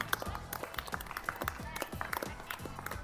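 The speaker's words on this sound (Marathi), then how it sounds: "चला आता टाळ्या वाजवायच्या." Children clap their hands during a classroom game at school, a dense run of quick, uneven claps that stays steady and fairly close, with young voices mixed in.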